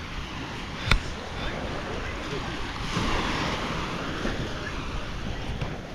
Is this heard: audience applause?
no